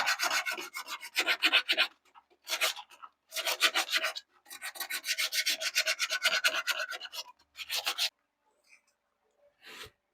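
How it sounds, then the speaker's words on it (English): Close, raspy back-and-forth strokes of hand sanding on a 1984 Scottsdale pickup truck body panel come in bursts with short pauses between them, and no voices are heard. "Some places you just gotta sand with your hand."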